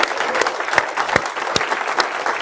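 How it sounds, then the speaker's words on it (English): Applause from the audience at the closing keynote of the BSides Cleveland 2016 security conference, a steady wash of many hands clapping at close range with a few sharper claps standing out, no voices. "round of applause for everybody that made BSides possible"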